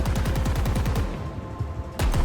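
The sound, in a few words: gunfire from a weapon in the video game Halo Infinite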